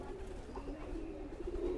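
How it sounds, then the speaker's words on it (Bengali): Imported pigeons coo softly in a low, repeated throaty pulsing, faint and close, with no other sound over them. "ডাইরেক্ট ইম্পোর্টের কবুতর।"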